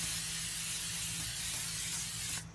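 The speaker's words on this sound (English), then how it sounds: "a high temperature grill oil. It comes in these aerosol cans" Aerosol can of high-temperature grill oil spraying a steady, close hiss across a grill for over two seconds, then cutting off abruptly.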